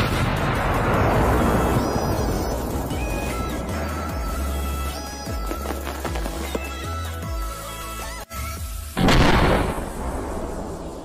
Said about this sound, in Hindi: और फिर डाल दिया जाता है इसमें एक हैंड ग्रेनेड।